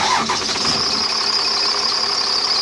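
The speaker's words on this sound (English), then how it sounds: "Start the engine, please." A car engine cranks briefly and catches during a battery start test, the starter's whir giving way to a steady running engine, fairly loud and close with no talk over it.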